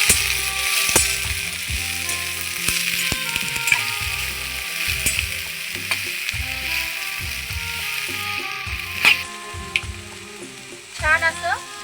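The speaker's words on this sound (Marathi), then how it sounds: "ते छान असं आपण परतून घेऊ." Cumin and chopped ivy gourd chutney ingredients sizzle and fry in a pan, with a spoon repeatedly scraping and stirring, clattering against the metal throughout.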